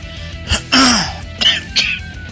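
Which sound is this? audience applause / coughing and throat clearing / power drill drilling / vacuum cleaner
coughing and throat clearing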